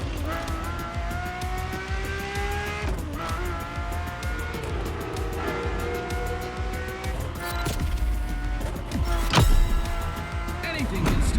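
A Ferrari engine revs hard through gear changes in The Crew Motorfest racing game, loud and steady and close, with tires squealing and a sharp surge near the end.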